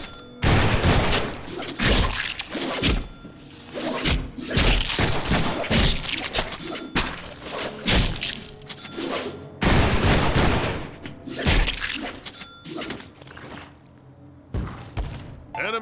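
Light and heavy melee attacks in the Deadpool video game land in rapid bursts of thumping, slashing hits with short pauses between combos, loud and punchy over game action.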